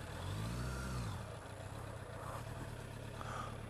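A stalled motorbike's engine revs up loudly right after restarting, a rising low growl in the first second, then a steady mid-pitched engine drone on a scenic road ride.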